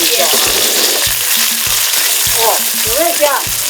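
Chicken frying in sesame oil makes a loud, dense sizzle close to the pan, with faint stirring scrapes and small bubbling pops throughout.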